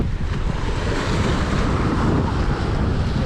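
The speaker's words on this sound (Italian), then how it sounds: "Deve calare il vento, ragazzi." Strong wind at the seashore during float fishing for sea bass, loud buffeting gusts roaring across the microphone over breaking surf, continuous and close with no voices.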